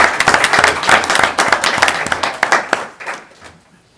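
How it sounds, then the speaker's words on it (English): A room at a city council meeting in Napoleon, Ohio breaks into a round of applause for the cheer team, a dense burst of clapping that carries on for a few seconds and then thins out and fades. "the rest of the cheer team deserve a round of applause"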